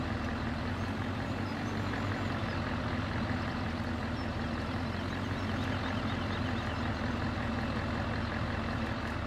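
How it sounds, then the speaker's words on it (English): Ford F-350 work pickup truck in Farming Simulator 17, a steady loud low engine rumble and drone that holds unbroken from start to finish, close by, with no voices. "now we'll just use the truck to basically push it"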